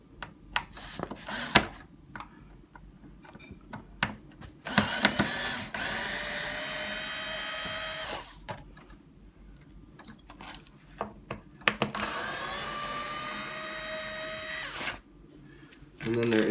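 Power drill whirring in two sustained bursts while backing out the front screws of a Stokke Trailz stroller's shopping basket, with handling clicks and someone speaking between the runs.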